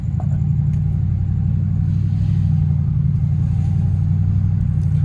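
An SRT Jeep engine rumbles at a steady low idle, loud and close inside the vehicle, a constant throaty drone with no clear rev.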